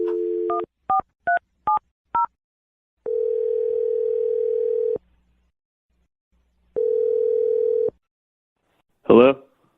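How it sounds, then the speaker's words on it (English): A quick run of touch-tone dialing beeps, followed by two long steady ringback tones separated by silence, then a brief click and chirp. "I'm gonna dial the phone number right now."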